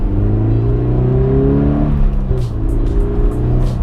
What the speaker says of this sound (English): Let's get a quick acceleration right now.